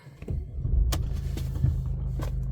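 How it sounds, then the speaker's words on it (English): A Mercedes Marco Polo van engine cranks and catches, then settles into a steady low idle rumble with a few faint clicks and rattles on top. "Just going to start the van a second for you."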